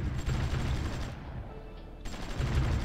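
Gunfire in the strategy game Supreme Ruler Ultimate, dense rattling bursts of shots that thin out briefly in the middle and return loud and continuous, no voices.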